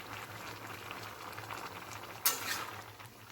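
Vegetables, including bottle gourd, boiling in a pot, a soft continuous bubbling simmer up close with a sudden sharp clatter of a utensil against the pot partway through, then quieter bubbling.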